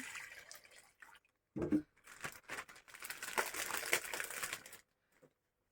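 Water is poured into a plastic bag, trickling and splashing while the plastic crinkles, with a short pause midway and then a steadier pour before the sound stops.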